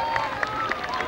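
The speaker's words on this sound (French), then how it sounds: "Plus puis-je vous demander les applaudissements pour Thierry Malekerkhove." A crowd claps and cheers at a BMX race, a steady wash of applause with scattered louder claps and a tone running underneath, heard over its full length.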